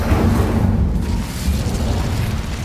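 A fire spell is cast in Hogwarts Legacy with a sustained, roaring burst of flame that stays loud and dense from start to finish, with no voice over it.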